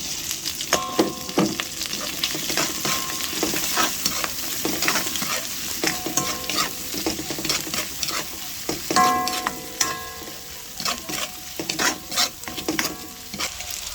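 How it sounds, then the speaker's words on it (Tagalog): Shrimp frying in a hot pan while being stirred, a dense, continuous close sizzle broken by frequent clattering scrapes of the utensil against the pan. "Lagyan na po natin shrimp natin"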